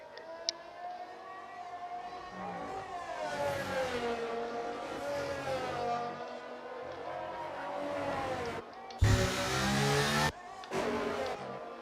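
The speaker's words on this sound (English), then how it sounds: "Whole stream of cars out on outlaps." F1 race cars on out-laps in the F1 23 video game, with high engine whines rising and falling as a stream of cars passes and a loud burst of revving near the end, with no talk.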